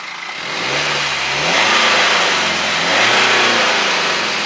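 A BMW 116d diesel car accelerates past, its engine note rising steadily in pitch and loudness before holding at a strong, close roar.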